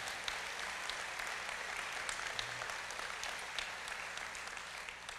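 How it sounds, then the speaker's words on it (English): Sustained audience applause fills a large hall at a tribal nation's annual State of the Nation address, steady dense clapping of a big crowd from start to finish at a fairly distant, even level. "let's give them a big round of applause as well"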